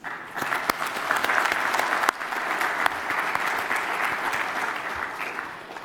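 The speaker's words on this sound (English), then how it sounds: "Please join me in giving them a round of applause." An audience at a formal forum gives warm, sustained applause for several seconds, clapping steady and full throughout.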